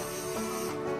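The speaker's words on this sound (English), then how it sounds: "I spray it with the oil on both sides" Cooking oil sprayed onto a tortilla in a quick burst, a steady close hiss lasting about a second.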